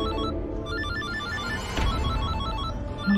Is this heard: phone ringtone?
yes